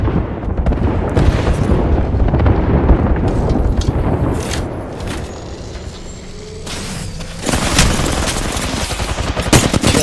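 Video game gunfire rattles in dense, loud automatic bursts almost without pause, with booming impacts mixed in and a short lull before the shooting resumes.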